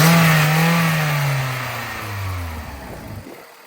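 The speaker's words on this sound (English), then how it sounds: "So there you can hear the revs." A cheap 75-horsepower car engine revs up and then falls back, its close, loud mid-pitched roar sliding lower as the revs drop before cutting off.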